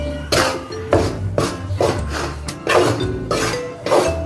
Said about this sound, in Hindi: चम्मच को चलाते हुए भूनने का इसको, नहीं तो नीचे लग जाता।